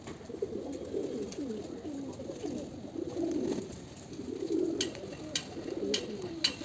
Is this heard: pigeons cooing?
yes